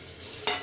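Chopped tomatoes go into a hot tadka of garlic, onion and ginger and are stirred, a steady close sizzle that swells suddenly midway as they hit the oil.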